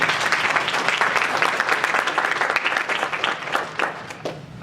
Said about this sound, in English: So let's give a round of applause for Games for Change.